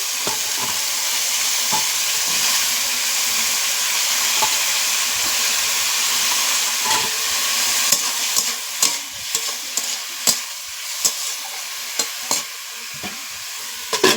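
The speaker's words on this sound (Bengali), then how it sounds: "তেলটা গরম হয়ে তেলটা তেতে গেছে এবার আলু ভাজার জন্য যে আলু কেটে রেখেছিলাম কড়াইতে দিয়ে দিচ্ছি" Salted, turmeric-coated potato pieces fry in hot oil in a kadai, giving a steady close sizzle and hiss, with sharper pops and stirring clatters growing more frequent toward the end.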